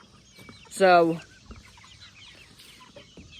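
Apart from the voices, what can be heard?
chickens and roosters clucking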